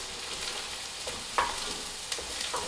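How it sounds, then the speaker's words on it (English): Broccoli and garlic toasting in olive oil in a pan, a soft continuous sizzle with a few brief scraping stirs and clicks of the utensil, heard alone at moderate level. "I'm stirring it so that all of the ingredients combine and so that they're all kind of getting toasted a little bit"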